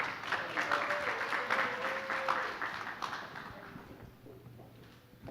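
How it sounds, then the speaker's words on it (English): Applause from an audience at a Nigerian students coalition conference at San Jose State University, dense and fairly steady before gradually thinning out, with faint voices mixed in. "Can you guys give him a round of applause?"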